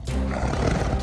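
A man-eating tiger roars in one long, loud, rasping call that fills about a second, with no talk.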